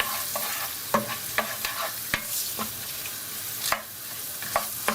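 Shrimp paste powder and spices frying in a pan for sambal goreng tempeh: a bright continuous sizzle with sharp, irregular spatula scrapes and taps, close up and with no voices.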